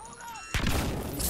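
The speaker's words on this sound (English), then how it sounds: "grenade" A grenade explodes in Star Wars Battlefront: a sudden, loud, full-bodied blast that cuts in after a quieter stretch of tonal game sounds and rumbles on to the end.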